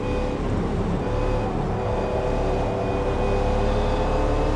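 Ferrari F40 on a race track, a steady loud engine drone with a constant tonal whine, sounding close and interior-like, no speech.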